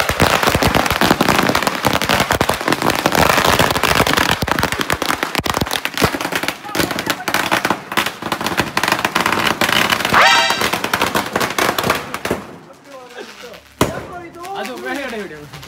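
Firecrackers burst in a rapid, dense crackling barrage at a YouTube 50k surprise celebration, loud and close, tapering off near the end as voices and shouts come through.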